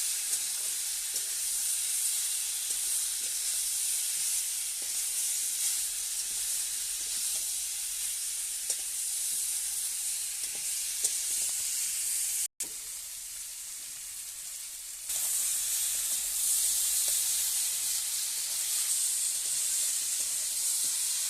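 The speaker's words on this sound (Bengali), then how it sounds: "এবার মশলাটা ভালো করে কষিয়ে নেবে সবজির সাথে" Masala is sautéed together with mixed vegetables in a pan, giving a steady, close sizzle and hiss with faint stirring taps, briefly cutting out and returning louder after a pause.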